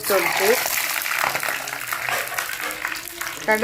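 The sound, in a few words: fenugreek seeds added to hot oil, frying and spluttering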